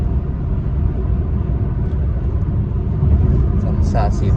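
Car driving along a highway in Laos, a steady low road and engine rumble filling the whole stretch, with a voice talking over it.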